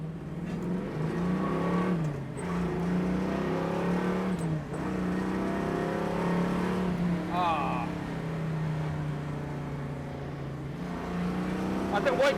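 A 1969 Chevrolet Nova Yenko-style car accelerates hard, its V8 roaring steadily with rising revs and gear changes, loud and close from inside the car over about twelve seconds.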